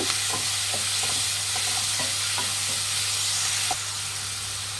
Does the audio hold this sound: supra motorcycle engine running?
no